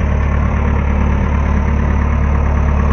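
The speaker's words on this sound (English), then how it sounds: "And working on some engine repairs" An engine idles during repairs, a steady, loud low drone with even pulsing that holds unchanged throughout, with no voices over it.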